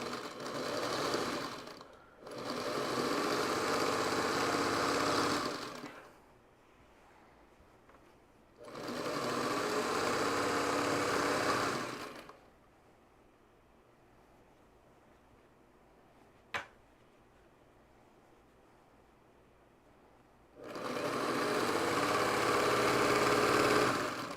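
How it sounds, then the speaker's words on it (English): A sewing machine runs a quarter-inch seam down fat eighth quilt pieces in four separate bursts of rapid stitching, a few seconds each, separated by quiet pauses and one sharp click. "we're gonna sew this with a 1/4 inch all the way down"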